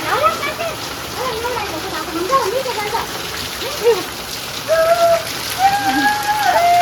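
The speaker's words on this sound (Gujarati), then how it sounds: "વરસાદ તો જોરદાર આવા જ બધો" Steady heavy rain in Surat hisses and patters on surfaces throughout, with faint voices and occasional bird-like whistles mixed in.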